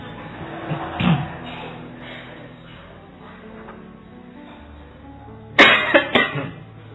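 Two bursts of coughing, one brief cough early on and a louder cluster of several sharp coughs near the end, over a murmuring room.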